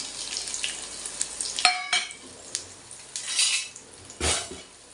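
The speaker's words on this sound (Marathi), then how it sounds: "तेल तापलं की आपल्याला कांदा टाकायचा आहे आपल्याला कांदा टाकून घ्यायचा आहे" Onion frying in hot oil in a pan, a steady broadband sizzle with a few sharper clatters and bursts as it is added and stirred.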